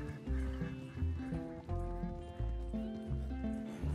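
A horse in the Red Dead Redemption 2 video game is heard amid music-like tonal game sound, with hoofbeats and whinnying fairly faint in the mix and no speech.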